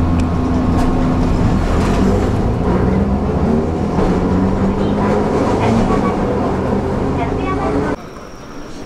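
A Matsuyama streetcar rumbles steadily along with a continuous low mechanical hum and rattle, heard close from on board, then quiets abruptly near the end.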